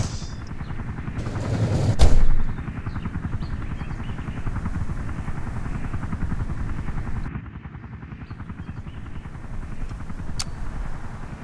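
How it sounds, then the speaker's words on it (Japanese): Helicopter in the survival game LifeAfter, a steady rotor drone heard close and alone throughout, with a brief louder burst near the start and a slight dip in level later. "渡した後こうやってヘリに乗って帰ります。"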